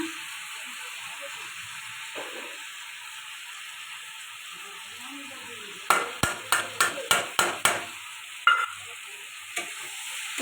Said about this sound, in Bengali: মশলা দিয়ে এটা ভালো করে কষাতে থাকবো